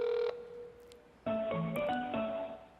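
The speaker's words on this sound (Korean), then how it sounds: "114에 전화합니다" A telephone call to the SK Telecom 114 directory line in Korea gives a long steady tone, a pause, then a run of short stepped electronic tones changing pitch, clear and close.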